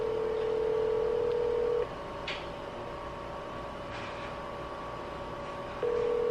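A cell phone placing an outgoing call: a steady ringback tone holds for a couple of seconds, cuts off into a quiet gap with faint clicks, then returns near the end, with no talking.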